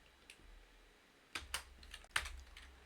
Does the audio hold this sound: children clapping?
no